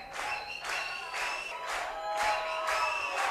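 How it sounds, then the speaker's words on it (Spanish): A concert audience at a show claps in a loose, steady rhythm with cheering and whoops, a lively crowd at moderate distance and moderate volume. "A ver esas palmas"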